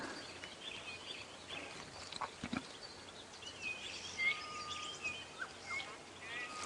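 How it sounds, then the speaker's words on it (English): Wild birds calling at sunrise on a safari drive among new green leaves, scattered faint chirps and whistles over a quiet hum of background noise, with no talk. "I'm starting to hear lots of birds I haven't heard for many months."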